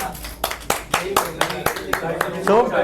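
Several people clap in separate, uneven bursts in a classroom session on cycling gears while a voice talks over the claps.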